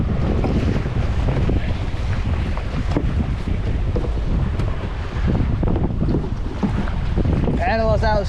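Kayak paddling on open sea off Hawaii, a steady wash of water and boat movement buried under constant loud wind buffeting the microphone, with a brief burst of sharper splashing near the end.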